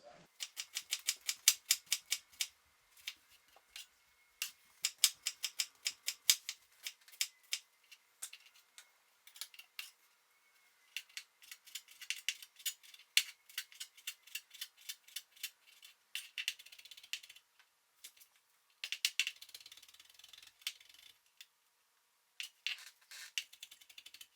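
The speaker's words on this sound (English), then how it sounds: "So we're going to get all this chopped up" A knife chops bacon strips, garlic and parsley on a cutting board in rapid, light, quiet taps. The bursts of chopping stop and start with brief pauses and run for about twenty seconds.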